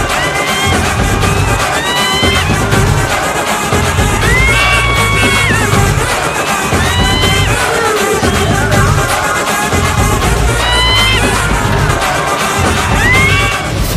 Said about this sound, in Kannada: ಆ ಚಿರತೆ ವೇಗ, ಹುಲಿ ಆರ್ಭಟ ನೋಡಿ ಜನ ಶಿಳ್ಳೆ ಚಪ್ಪಾಳೆ ಹೊಡಿತಾ ಇದ್ರು